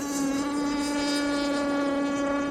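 A Zenoah 29cc gas engine with a steel Gizmo pipe and an exhaust leak runs on an Aeromarine Avenger 44 RC boat with the hatch off, a loud, steady, close-up buzzing drone with no talking.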